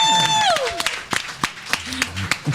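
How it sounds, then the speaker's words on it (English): A podcast audience breaks into applause, a burst of scattered claps that thins out into a few separate slaps, with a sliding tone fading at the start. "Like for real, I want a big end of applause for Wanda, for real."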